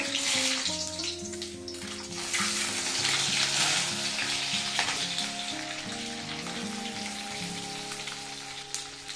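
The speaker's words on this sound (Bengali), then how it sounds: "এবার এই তেলের মধ্যে আমি ডিমগুলো ভেজে নেবো" Eggs fry in white oil in a wok, a loud, continuous crackling sizzle that runs the whole time beneath background music.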